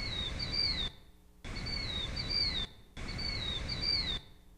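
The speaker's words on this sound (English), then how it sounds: "a lot of you know the sound of the killdeer." Three killdeer calls from a bird flying over at night, each a high, thin descending whistle over a low background hiss, evenly spaced with short gaps between them.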